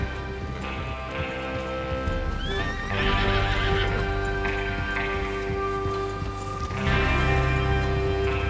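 Horses in Red Dead Redemption 2 whinny and snort over a steady clatter of hooves, with a light patter like rain throughout; the neighs rise loudly at a few points.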